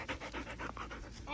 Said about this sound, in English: And here our dog Mabel is.